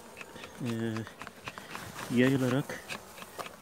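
Honey bees crawling over hive frames during a weak-colony inspection, a steady insect hum with someone talking over it nearby; his speech stands out in two short bursts.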